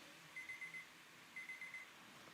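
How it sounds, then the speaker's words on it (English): Small electronic alarm from an iHost smart home hub: two quick sets of four faint, high beeps about a second apart, heard alone against quiet room tone. "You could hear the small beep, beep"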